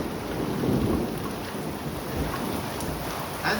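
Heavy rain pours steadily through a severe spring thunderstorm in the northeastern United States, with low rumbling thunder rolling underneath the constant downpour, no voices present.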